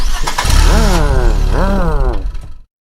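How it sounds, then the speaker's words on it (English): A cartoon car engine is started after a breakdown fix, a loud, close mechanical churning with rising and falling whirring tones for about two seconds that then cuts off abruptly. "Right, now try the engine"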